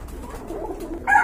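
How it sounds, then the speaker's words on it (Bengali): A pair of Rasgolla pigeons, also called coloring golla, give a single short coo at the very end, close and fairly clear after a quiet murmur of background. "আর এখানে কিন্তু এক জোড়া রাসগোল্লা কবুতর দেখতে পাচ্ছেন"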